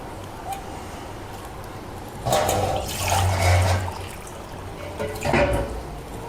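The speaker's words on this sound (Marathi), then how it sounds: "एक पातेलं पाणी काय ठेवलं" Water is poured into a cooking pot while making rice papad dough, heard as two moderately loud bursts of splashing and gurgling over a quiet background, with no talking.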